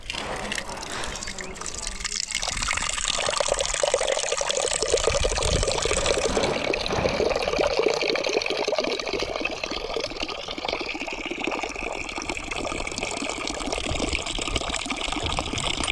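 Tap water runs steadily and close by as washed items are rinsed under it, a continuous gushing splash that lasts throughout, with faint voices in the background.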